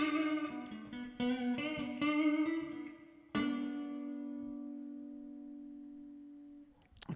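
Clean-toned electric guitar with reverb: several picked notes and chords ring out, then a final strummed chord sustains and slowly fades in a long shimmering tail, ending with a brief click.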